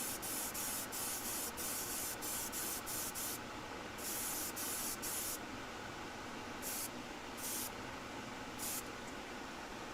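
Airbrush spraying a Vallejo finish coat onto a grey-primed tester, a steady close airy hiss running throughout with rhythmic short bursts and pauses as the trigger is worked.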